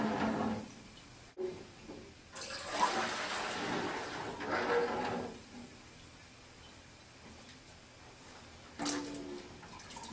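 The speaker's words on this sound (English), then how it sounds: "We're going to add the dirty water to the pots." Dirty water slurry poured into pots for a silt fence flow test, heard as bursts of splashing, gushing water, loud in stretches with quieter gaps between pours.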